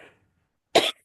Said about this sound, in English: I've just coming through a bit of a cold and I've got a bit of a cough